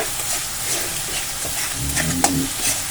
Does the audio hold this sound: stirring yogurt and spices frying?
yes